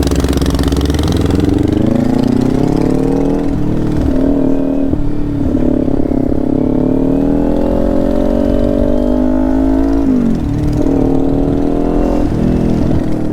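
A minibike engine runs steadily and loudly nearby, with its pitch rising and dipping slightly as it idles and revs for the whole stretch.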